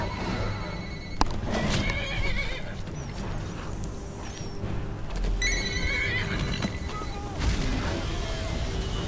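A horse whinnies several times in Skyrim as a dragon attacks and eats it, amid hoofbeats, clattering and other busy game sound effects, with some indistinct voice underneath.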